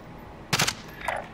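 Warzone gunfire from the video game comes as a short, sharp burst of shots, then a fainter second burst after a brief pause, over a quiet background.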